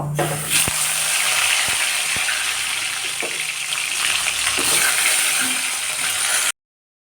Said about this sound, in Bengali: এবার কচুগুলো আমি একটু হালকা নেড়ে নেব